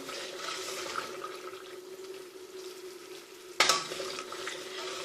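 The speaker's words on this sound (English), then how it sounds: "Now this is starting to come a little bit to a simmer around the side" Candy syrup for vegan energy bars simmering in a pan, a steady soft bubbling hiss throughout, with a brief louder clatter near the end, close by and alone without talk.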